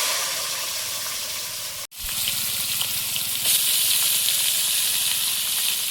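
Potatoes frying in hot oil in a home kitchen, a steady loud sizzle with a brief cut partway through, then continuing sizzling and hissing with light stirring.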